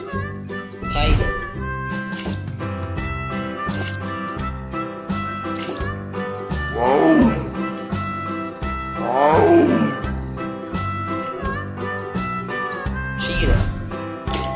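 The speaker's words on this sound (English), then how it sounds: "Tiger." Tiger roaring in several deep, rough bursts spaced a few seconds apart, fairly loud and close, set over continuous background music.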